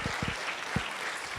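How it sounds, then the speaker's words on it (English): Applause from an audience at a talk: scattered, fairly soft clapping with a few distinct louder claps standing out against the steady patter, with no speech. "Give Sammy and Vaz a big round of applause, please."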